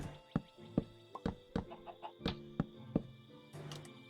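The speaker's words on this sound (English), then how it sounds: "these chickens also aren't going to live on grass" Chickens in a modded Minecraft world cluck in short, repeated clucks at an uneven rhythm, close and fairly quiet. No one speaks.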